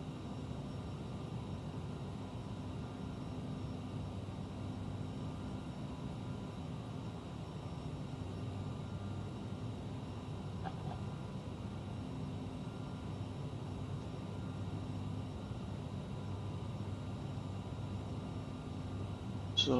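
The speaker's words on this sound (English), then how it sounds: "climbing up through flight level 260 on our way to flight level 340" A CRJ 900 jet climbs in Microsoft Flight Simulator, its engines making a steady, even roar that holds unchanged throughout, with a faint click near the end.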